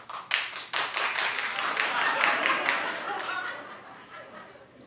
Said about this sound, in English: Clap if you think you'll go.